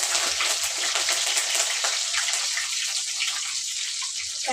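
Cumin, mustard seeds and curry leaves frying in hot oil make a dense, continuous crackling sizzle with fine popping, close and fairly loud, with no talking.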